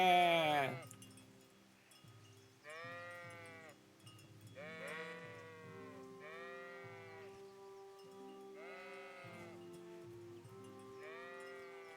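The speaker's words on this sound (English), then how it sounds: "Okay, here are the sheep." Sheep bleating in the Kingdom Come: Deliverance video game, a series of repeated bleats from several animals near a sheepfold, fairly close and clear, with one louder call at the start and quieter overlapping calls following.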